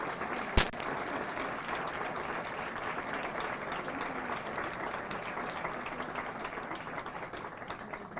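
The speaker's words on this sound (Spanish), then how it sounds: "definitivamente creo que merece un gran aplauso" A live audience applauds a senator at a formal event, steady broadband clapping that swells after a sharp onset and carries on evenly for several seconds, moderately loud with no talk over it.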